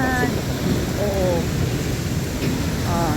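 Steady rain falls at night in Rizal Park (Luneta), Manila, a continuous broadband wash of drops that stays constant, with brief faint voices and other tones in the background.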